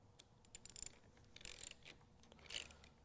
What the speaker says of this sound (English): Socket wrench is going to tighten it.